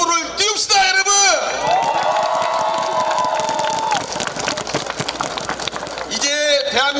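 A large crowd at a Korean presidential election rally for a candidate roars and cheers loudly, with whoops and shouts rising and falling and a voice calling out over the din.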